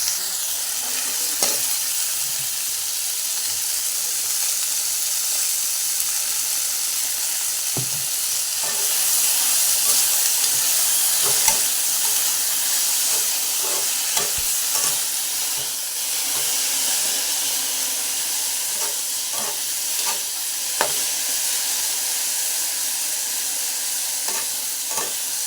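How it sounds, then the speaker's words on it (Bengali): Okra frying in a wok for a home lunch, a continuous loud sizzle and hiss with frequent stirring clicks throughout, no talking. "তো চলো ভেন্ডিটা ভাজা হতে থাক।"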